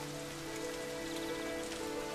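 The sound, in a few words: autumn rain falling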